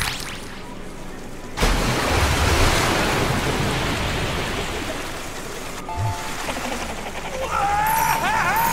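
Loud rushing water in the Deadpool video game, a broad roaring wash that bursts in abruptly and holds steady, then thins out as other game effects and tones come in.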